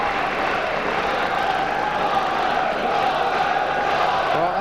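A packed arena crowd at a professional boxing match between Herol Graham and John Ashton roars continuously, a loud, dense wall of cheering and shouting that holds steady throughout.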